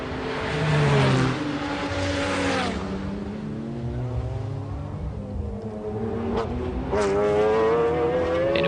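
An Oreca-run Dodge Viper race car spinning at the 1996 Le Mans 24 Hours, with several engine notes rising and falling as cars pass and rev, under a continuous race broadcast ambience.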